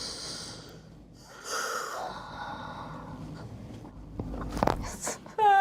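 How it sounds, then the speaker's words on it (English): A patient on a chiropractic table draws a deep breath in and lets it out slowly, soft airy breathing close by, followed by a brief sharper sound near the end. "Big breath, let it out."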